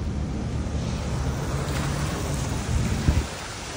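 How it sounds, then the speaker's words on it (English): Steady light rain hisses outdoors on a New York City street in autumn, a continuous wash of sound with a brief louder rustle near the end. "It's still raining, but it's lighter."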